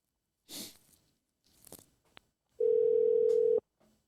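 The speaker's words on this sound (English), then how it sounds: "I'm going to get CJ on the phone" A telephone placing a call, a few soft clicks and handling noises, then a steady one-second electronic tone, clear and close, before it cuts off.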